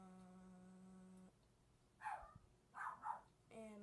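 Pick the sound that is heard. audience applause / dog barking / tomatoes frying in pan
dog barking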